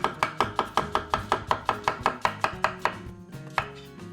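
A sharp kitchen knife slices through onion for a Spanish tortilla, a quick even run of crisp chops on a cutting board, close and distinct, slowing and thinning toward the end.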